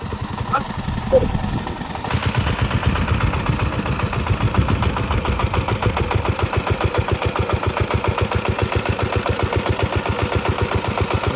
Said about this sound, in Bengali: নদীতে যাওয়ার পথে পাওয়ার ট্রাকটা আটকে গেছিল